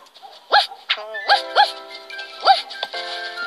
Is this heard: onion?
no